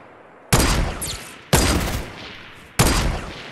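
Three sharp bursts of gunfire in the video game Fortnite, loud and close, spaced about a second apart, each with a quick decaying tail and no talking over them.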